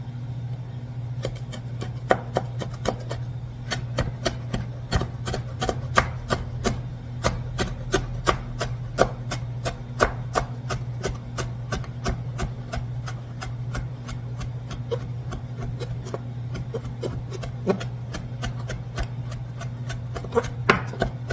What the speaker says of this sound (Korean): 그리고 딜 10g입니다. 잘게 다질 거예요.